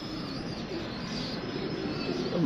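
Soft, low pigeon coos murmur under a constant hiss of background noise, gently repeating and fairly close, with no voices present.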